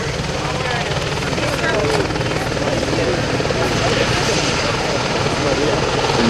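A UH-60 military helicopter departs at a helicopter festival event, its steady, loud rotor and engine roar continuous throughout with a narrator speaking over it.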